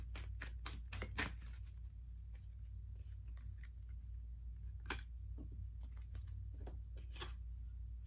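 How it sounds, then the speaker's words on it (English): Quiet, close-up shuffling of tarot cards: a quick burst of crisp riffling clicks, then scattered softer slides and taps over a low hum. "Just so that you can see me shuffling the cards and everything"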